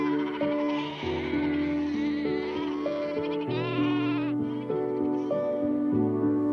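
A flock of sheep bleats over and over, many overlapping calls close and loud, some deep and some higher, with no talking.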